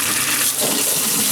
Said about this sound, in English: Let's turn this on and see how much pressure there is.